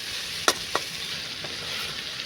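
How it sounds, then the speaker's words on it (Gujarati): Val papdi beans stirred with spices in a pan, a steady soft sizzle under two or three sharp scrapes of a spoon against the metal, close by with no talking. "તો 1 મિનિટ સુધી આપણે આ શાકને સરસ આવી રીતે મિક્સ કરવાનું છે મસાલા સાથે."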